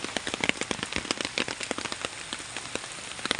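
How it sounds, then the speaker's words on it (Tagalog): Heavy rain pounds down in a dense, steady roar, with sharp drops crackling close by on a hard surface throughout. "Ayan, grabing lakas ng ulan."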